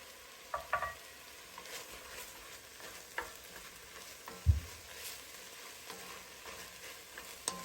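Ground meat browning for bolognese sauce is stirred and chopped in a pan with a spatula, giving a soft steady sizzle broken by a few sharp scrapes and taps against the pan.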